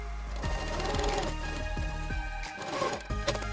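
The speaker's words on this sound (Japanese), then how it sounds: "ミシンをかけるときは必ず最初と終わりは返し縫いをします。" A sewing machine stitching the hem of a bib apron runs in a fast, steady mechanical whir with regular needle knocks, fairly close, with a brief change in pace near the end.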